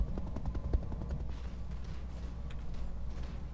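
An artillery barrage in the Roguetech mech game, distant low rumbling booms and rapid thudding impacts rolling continuously under a steady low background, no speech.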